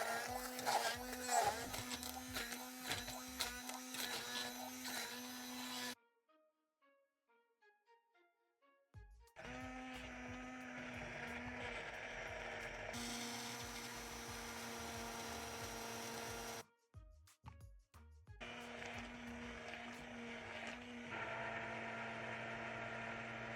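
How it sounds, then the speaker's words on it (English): A high-powered blender purees a fermented habanero and carrot hot sauce, a loud, close, steady whirring motor in long runs broken by brief stops, no talking. "high powered blender or immersion blender"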